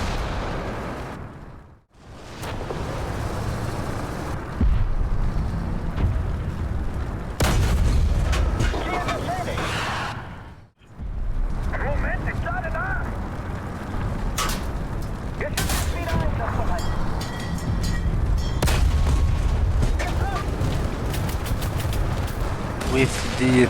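Tank cannon and gunfire in War Thunder during a battle involving a Maus heavy tank. Repeated heavy booms and bursts of fire ring out, with brief lulls between them, under ongoing spoken narration.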